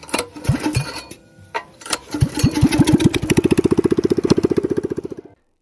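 A car engine cranks after repair on a vehicle that slid out of control on ice, firing in a few short bursts before a long run of rapid, even starter-motor strokes close to the microphone, with no voices.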